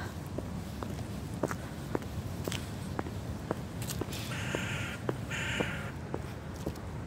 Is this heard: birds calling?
yes